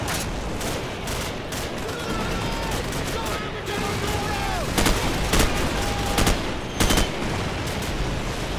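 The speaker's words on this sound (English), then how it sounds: "Good lord, there's a lot of gunfire." Dense, rapid gunfire rattles continuously with sharp louder bursts standing out, a chaotic battle soundscape of overlapping shots in the video game Call of Duty 4: Modern Warfare.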